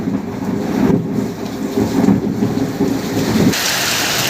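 Heavy village rain pours in a dense, loud roar while low thunder rumbles underneath, ending in an abrupt shift to plain steady downpour.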